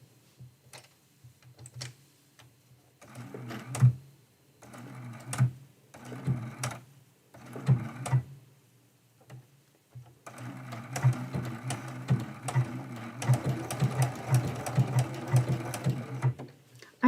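Sewing machine stitching a medallion quilt in short start-stop bursts of rapid ticking, then a longer steady run, close and clear with quiet gaps between.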